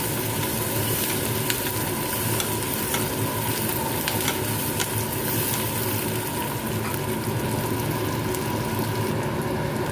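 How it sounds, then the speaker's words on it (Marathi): Chopped onion sautés in hot oil, softening in the pan with a loud, steady, close sizzle and occasional stirring scrapes, running continuously with no voices. "कांदा मस्त आपल्याला परतून घ्यायचा जेणेकरून तेलामध्ये छान आता नरम करून घ्यायचा"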